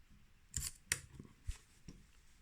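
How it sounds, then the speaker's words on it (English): A camera shutter fired several times at different speeds, producing sharp, crisp mechanical clicks and snaps spaced irregularly, close and distinct against a quiet background. "since I've actually fired the shutter off, we can now play about it"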